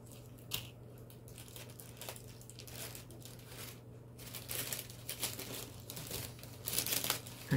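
A paper table topper crinkles and rustles while it is unfolded, an irregular run of close crackles and crumples that grow louder toward the end, with no talk over it.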